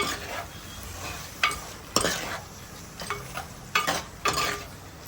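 Mutton keema frying in a pan is stirred in bursts, with sizzling under repeated scraping and clinks of the utensil against the pan.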